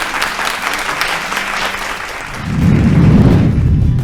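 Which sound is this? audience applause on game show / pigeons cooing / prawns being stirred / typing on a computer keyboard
audience applause on game show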